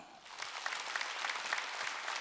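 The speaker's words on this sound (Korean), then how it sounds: "강지가 지금 박수 좀 쳐줘요" A church congregation at a Wednesday worship service applauds steadily, a dense even patter of many hands at moderate level with no voices over it.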